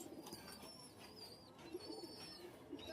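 A restless pigeon cooing softly in short, irregular bursts while being held and handled, its low calls sitting over steady background hiss with faint higher chirps nearby.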